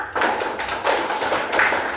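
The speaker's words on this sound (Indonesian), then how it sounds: "tepuk tangan untuk kita semua" Students in a classroom clap their hands together in a short round of rapid claps, fairly close and alone without talk.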